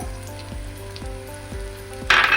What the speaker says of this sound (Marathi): आता हिंगाचो तुकडो घालतलो असा आणि या जरा ब्राऊन होईपर्यंत परतून